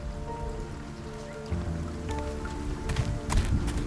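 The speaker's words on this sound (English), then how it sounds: "It's always raining." Rain falls at night in the video game World of Goo 2, a steady patter under a low tonal hum, with sharper drip and splash ticks toward the end.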